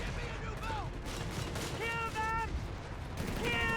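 A .30 cal machine gun in Company of Heroes 3 fires in quick rattling bursts, faint and somewhat distant, amid a low battlefield din with sporadic chirping tones.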